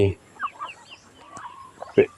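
Chickens clucking at a Buddhist temple in Thailand, a handful of short clucks and squawks scattered across the moment, close by, with faint voices in the background.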